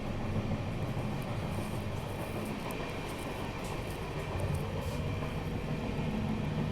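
A luxury special train runs on rails toward Rajkot, a steady broadband rumble with faint rhythmic clatter heard from inside the carriage, constant and moderately loud throughout, with no talking.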